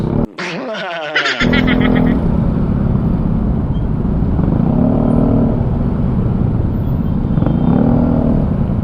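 Heavy motorcycle-lane traffic on EDSA in Manila, recorded from a rider's helmet camera: loud, continuous engine rumble and passing vehicles close by, with a brief burst of wind noise at the start and no talking.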